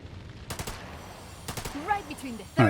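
Enemy gunfire in the turn-based tactical game The Lamplighters League, a couple of short rapid bursts of shots fairly faint under someone talking.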